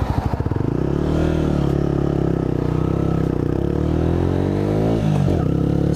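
Honda CBR125R motorcycle with a road-legal Scorpion full race exhaust, close and loud, engine revving with a steady droning note that climbs and dips before a sharp blip near the end, running alone without talk.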